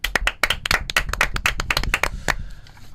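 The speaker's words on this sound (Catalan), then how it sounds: "Juanma Díaz, aquest aplaudiment per ell" Applause for a guest being introduced on a studio show, heard as a short burst of distinct, close hand claps from a small group, tapering off after about two seconds.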